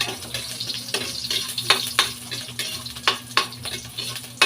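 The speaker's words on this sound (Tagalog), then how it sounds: "Pula-pulay lang natin itong bawang sibuyas." Garlic and onion sauté in hot oil in a pan, a steady sizzle broken by repeated scraping stirs of a spatula, close and without speech.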